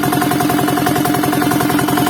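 Diesel engine still running after being doused with water, a loud, close, steady mechanical clatter with a fast regular knocking rhythm and an even idling drone throughout.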